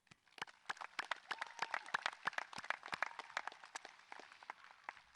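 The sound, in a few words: graduates clapping for themselves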